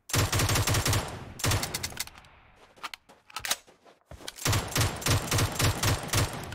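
An M16 rifle in a video game fires in fully automatic bursts, loud and close, with rapid sharp cracks in several strings separated by short pauses and a brief quieter stretch midway, and no talking.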